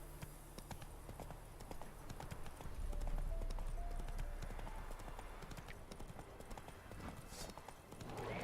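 Horse hooves clip-clop steadily in The Witcher 3, the horse Roach trotting along under a busy, layered game soundscape, with a brief whinny-like sound near the end.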